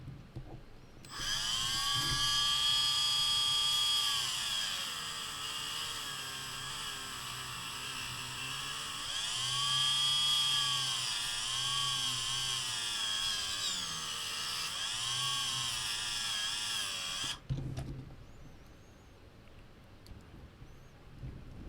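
A rotary cutting tool trims the acrylic shell of a custom in-ear monitor with a steady high-pitched whine that rises and dips in pitch as it bites, running close and continuous for about sixteen seconds before stopping.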